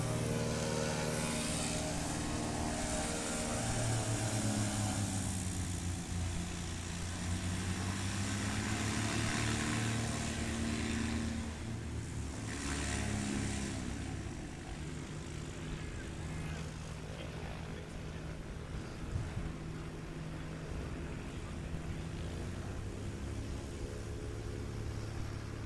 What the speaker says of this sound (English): Ed Boyd taxiing by in that beautiful aircraft